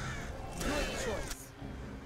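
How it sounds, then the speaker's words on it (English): Crows caw in a crow storm attack in the Drakensang video game, harsh calls swirling over a dense, noisy wash of effects, with a person talking over it. "Rhulana, you're in the middle of a crow storm"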